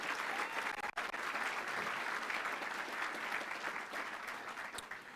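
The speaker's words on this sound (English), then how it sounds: "So would you join me in giving a big round of applause for these public servants?" Audience gives a round of applause at a county leadership graduation forum, sustained even clapping from a large crowd that continues throughout, slightly tapering near the end.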